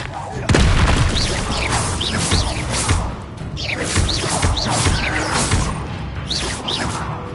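Hogwarts Legacy combat spells, Confringo, Expelliarmus, Incendio and Bombarda, crackle and whoosh into a string of loud booming blasts and crashes, with spell names called out over the dense, near explosions.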